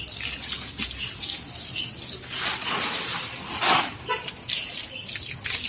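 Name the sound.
water poured while washing plant pot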